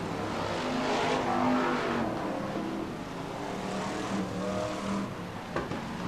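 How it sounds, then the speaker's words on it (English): BriSCA Formula 1 stock cars roar through the start-finish point at Skegness, engines swelling loud as the pack passes and then settling to a sustained drone, with a brief sharp knock near the end. "Here's your lead cars coming through the start-finish point again"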